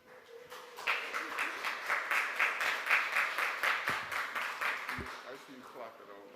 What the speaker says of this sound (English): I see you clapping out loud.